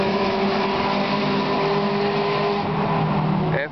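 A Seat Leon Supercup race car roars steadily on a circuit, a loud, sustained engine drone held at high revs for a few seconds before a short change in tone at the end, with no voices.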